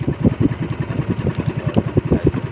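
A fishing boat's engine revs steadily at close range, its rhythmic chugging pulses running without pause and with no voices over it.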